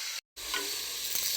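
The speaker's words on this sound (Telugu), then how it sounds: "ఇంకొంచెంసేపు వేగనిద్దామండి" Chopped bitter gourd sizzles steadily in hot oil, with a near, constant frying hiss that cuts out for a moment and then resumes as the pieces are stirred.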